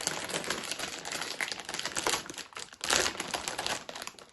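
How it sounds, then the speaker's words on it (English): A bag of cassava tortilla chips is torn open with a loud, continuous crinkling and crackling of plastic that swells and fades over a few seconds, close up and with no talking. "Nice crack of the bag there."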